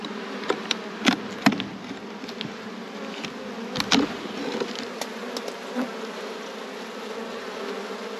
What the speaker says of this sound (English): That's a full box of bees.